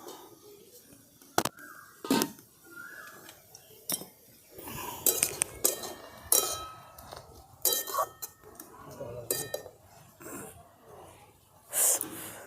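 A lid is lifted off a cooking pot of boiling banana flower, giving a few sharp metallic clinks and clanks scattered among quieter kitchen rustling, fairly close and not loud.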